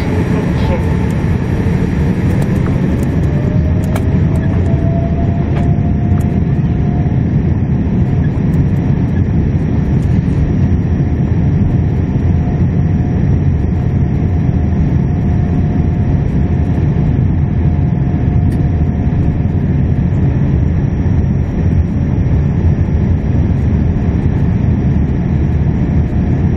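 Engines of an ANA Boeing 787-8 on its takeoff roll out of Okinawa, heard from inside the cabin as a loud, unbroken roar with a whine that rises and settles early and then holds steady.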